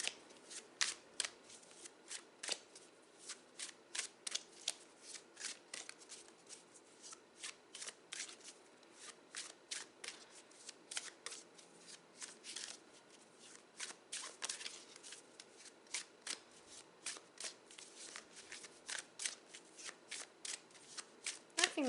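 A tarot deck being shuffled over and over, with quick riffling bursts and soft card slaps repeating steadily at close range for the whole stretch, no talking.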